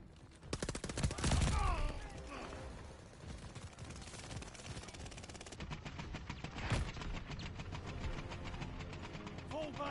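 Rapid bursts of video game gunfire crackle through a chaotic battle, with dense automatic fire in the opening seconds that settles into steady, continuous shooting over a low engine-like rumble.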